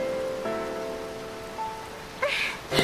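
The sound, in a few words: rain falling in Final Fantasy XIII video game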